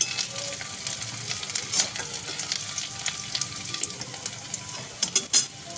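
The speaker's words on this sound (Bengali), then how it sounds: "তো পেঁয়াজটা এরকম হালকা করে ভাজা হয়ে গেলে আমি দিয়ে দেবো লঙ্কাটা।" Onions and green chillies fry in a pan with a continuous soft sizzle, broken by brief scraping stirs and a few louder clinks near the end, heard close with no talking.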